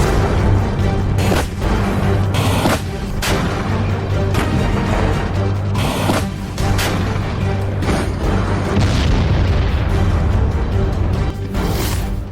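Explosions from a Russian tank attack in the war in Ukraine come as heavy, continuous rumbling booms with repeated loud blasts and crashes in a dense, roaring wash of noise.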